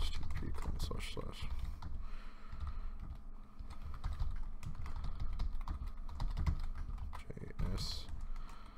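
Fingers type a script on a computer keyboard in a steady stream of rapid clicks, heard under continuous talking.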